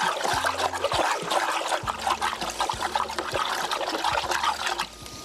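Thick organic nutrient solution, rich in calcium phosphate, is stirred into a swirling cyclone in a hydroponic grow-room reservoir, giving a steady, close trickling and sloshing of liquid with a faint low bump at each stroke.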